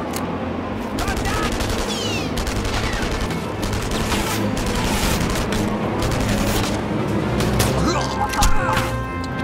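Heavy gunfire from an unidentified weapon rattles through a battle in the World War II shooter Enemy Front, a dense, continuous barrage of loud shots and crashes that barely lets up.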